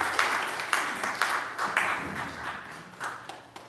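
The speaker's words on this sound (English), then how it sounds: "Round of applause." A small congregation claps after a Sunday church service, a brief, thin patter of separate hand claps with distinct individual strikes, fairly close.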